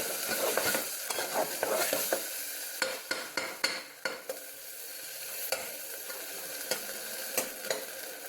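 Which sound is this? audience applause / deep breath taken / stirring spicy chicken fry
stirring spicy chicken fry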